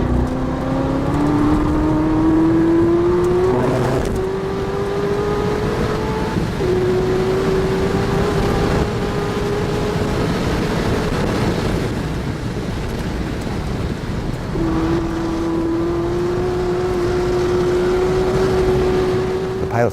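A 2012 Corvette ZR1 drives hard around the Nurburgring, its engine note climbing steadily through long gear pulls with brief drops at each shift, loud and close throughout with rushing wind noise.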